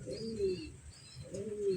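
A pigeon gives two soft, low coos about a second apart, faint and close, in quiet surroundings.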